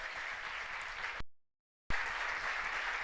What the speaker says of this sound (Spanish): Dale un aplauso bien fuerte a la palabra.